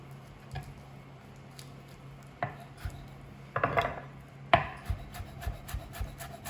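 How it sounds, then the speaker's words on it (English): A knife chops fresh herbs on a cutting board, sparse close taps and short bursts of quick cuts with soft rubbing, no talk. "I'm just going to chop some of those herbs"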